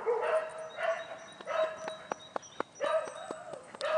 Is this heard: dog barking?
yes